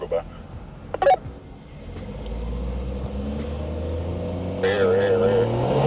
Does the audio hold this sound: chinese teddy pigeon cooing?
no